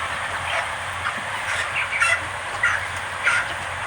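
Chicks in a poultry farm chirp and peep in a dense chorus, with a few louder bright cheeps rising over the continuous flock noise and a low background hum.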